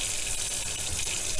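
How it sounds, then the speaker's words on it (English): Running water from a faucet pours steadily over a Shih Tzu puppy during a bath rinse, a continuous close hiss and splash with no talk. "I'm lucky to have a faucet here where I can just stick her under the water and let her rinse off"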